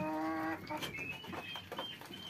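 Domestic chickens, local baladi hens kept at home in a town, give a loud, close, drawn-out cluck followed by softer, choppy clucks and rustling.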